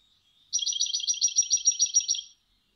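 A goldfinch sings a rapid run of bright, ringing notes for about two seconds, close and clear against silence, ending in a bell-like trill.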